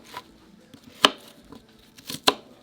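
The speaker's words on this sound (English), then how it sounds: "So I'm just rough chopping it." A knife rough chopping butternut squash for soup, a few sharp knocks on a cutting board at uneven intervals, close up and fairly quiet, with no talk.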